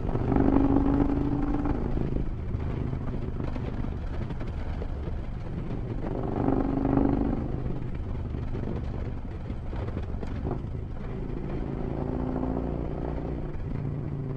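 A motorcycle cruises along a rough road with a steady engine drone that rises and falls slightly, heavy wind rumble buffeting the microphone throughout.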